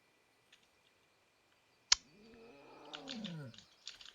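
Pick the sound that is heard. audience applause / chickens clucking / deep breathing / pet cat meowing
pet cat meowing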